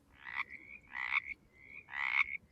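Three drawn-out frog calls, each a harsh, buzzy croak with a wavering trill, arrive in a slow, evenly spaced series against a quiet background, likened to a slowed-down mountain chorus frog.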